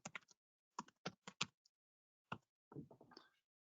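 Bursts of quick, crisp keystrokes on a computer keyboard sound close and quiet, with clusters of taps separated by short pauses.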